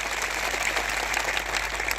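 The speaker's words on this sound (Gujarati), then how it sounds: "એકવાર જોરદાર તાળીઓ પાડી લો." Crowd at a public rally in Kherоj gives a sustained burst of clapping, dense and even, fairly loud and without speech over it.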